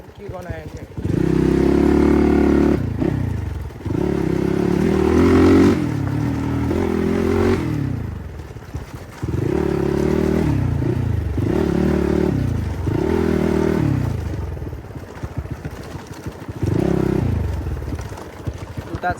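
A motorcycle rides along a road, its engine droning loudly and steadily in long sustained stretches, with pitch shifting as it revs and brief drops between runs, plus occasional clatter.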